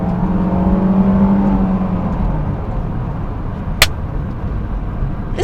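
A 2005 Honda S2000 engine revs hard under acceleration while driving, with a loud, close rising drone inside the car that settles after a gear shift.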